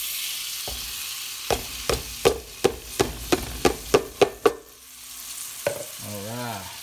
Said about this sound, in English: Time to throw them onions in there.